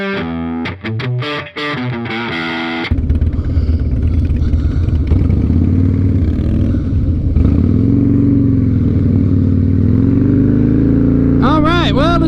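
A 2007 Harley-Davidson Softail Standard motorcycle rides off, engine rumbling loud and steady with shifting pitch as it pulls away, wind and road noise over it and a brief high whine near the end.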